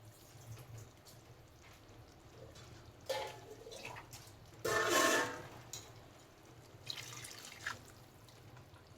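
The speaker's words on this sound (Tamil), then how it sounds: "ஒரு அரை செம்பு தண்ணி ஊற்றிக்கிறேன்." Half a vessel of water is tipped into a pot of simmering mutton curry salna, a brief splashing pour midway through an otherwise quiet stretch with faint drips.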